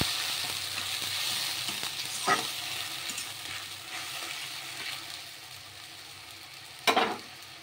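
A paste of onion, garlic, ginger, tomato and green chilli with tomato sauce and whole garam masala fries in a pan for palak paneer, giving a soft continuous sizzle with a couple of brief scrapes and clinks.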